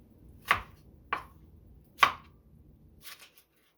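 A knife chops cucumbers into thirds on a cutting board, giving three crisp, distinct thunks spaced about half a second apart, then a softer pair of taps, quiet and close with no talk.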